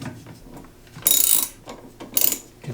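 Ratchet wrench on a long extension loosening the agitator hub nut of a Whirlpool washer, two loud bursts of fast clicking separated by a pause, close and alone.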